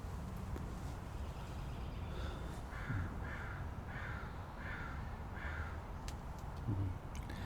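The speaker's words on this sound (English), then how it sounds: "There are crows in the world." A series of crow caws, about five evenly spaced calls at moderate distance, rising over steady outdoor background noise with a few brief thumps.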